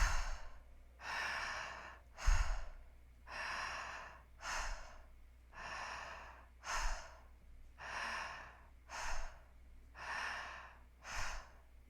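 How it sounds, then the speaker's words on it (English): Deep breathwork breaths, slow audible inhales alternating with long, breathy exhales in a steady rhythm of about ten breaths, close and soft, with no talking. "Vibrant inhales, surrendered exhales."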